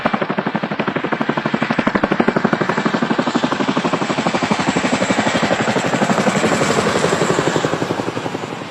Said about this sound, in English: Army helicopters are lifting people trapped in the water and taking them to temporary camps, their rotors slicing through the stormy winds